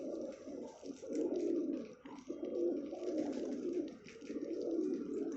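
Pigeons coo steadily and continuously inside a loft, a dense overlapping murmur of several birds close by, with occasional wing flutters and faint chirps, no talk.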